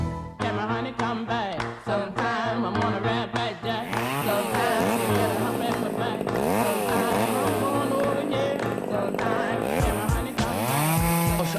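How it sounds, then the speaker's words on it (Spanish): A chainsaw engine revs and drones loudly in stuttering bursts before settling into a sustained high whine, with speech-like sounds blended into the roar. "en la motosierra de Javier Milei"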